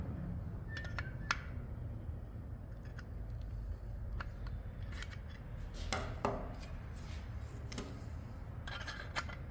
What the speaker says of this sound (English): Now, you just go back through and you'll cut the excess again with your snips.